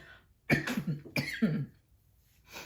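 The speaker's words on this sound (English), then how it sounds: "I don't know why I'm coughing all of a sudden" A woman coughs softly indoors in three short, close bursts spaced about a second apart, followed by a faint breath, with no talking alongside.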